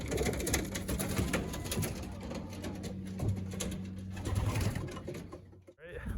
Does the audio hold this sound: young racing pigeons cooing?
yes